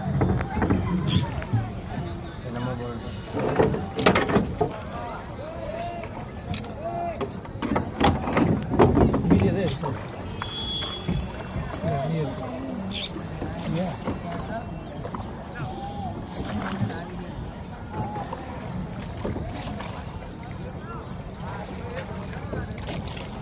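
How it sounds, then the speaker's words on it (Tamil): A boat moves along the river at Triveni Sangam, the Ganga–Yamuna confluence, with steady water and hull noise and wind buffeting the microphone while people talk throughout. "திரிவேணி சங்கமத்தில் படகுல போயின்னு இருக்கோம் ஸ்நானத்துக்காக."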